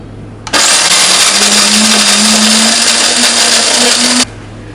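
A Cuisinart coffee grinder starts abruptly and runs loud and close for under four seconds, a harsh high whine over a motor tone that rises slightly in pitch, then cuts off sharply.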